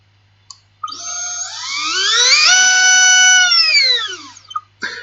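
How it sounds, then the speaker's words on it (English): A micro quadcopter motor, a clockwise motor mounted upside down with a counterclockwise propeller, spins up to a steady high whine, holds, then winds down, with sharp clicks at the start and end. "As you can see, this motor runs correctly."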